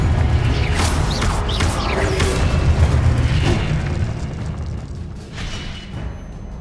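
A heavy, rumbling boom from the Confringo fire spell in Hogwarts Legacy rolls on as a sustained roar, with crackling debris that slowly fades toward the end.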